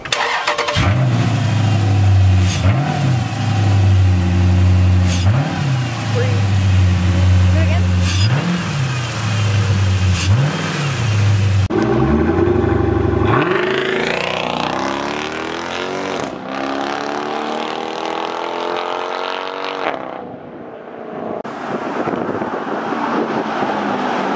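A 2013 Jeep SRT fitted with an AFE intake starts and idles with a loud, throaty rumble, then revs up and down several times before settling; people talk nearby.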